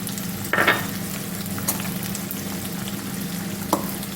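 Five cut dried red chillies fry in hot oil for tempering, giving a steady close sizzle with a few sharp crackling bursts popping through.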